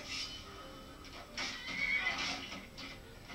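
A horse in Skyrim gives several loud whinnies and snorts in bursts, close by, amid game combat noise and a faint voice.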